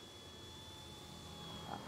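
A C186 toy remote-control helicopter hovers with a faint, steady motor whine and whirring rotor hum, flying in a breeze, with no voices.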